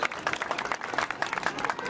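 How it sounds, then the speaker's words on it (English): An audience claps for finishers at the St Joseph's Convent School Run Aangan 2023 event, giving a dense, continuous outdoor patter of many hands that holds at an even level throughout. "Let's give them a huge round of applause."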